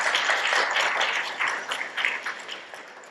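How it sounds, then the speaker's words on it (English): Applause from a seated audience at a master planning workshop: a short burst of scattered hand clapping, fairly close, that starts full and thins out over a few seconds. "Round of applause for David."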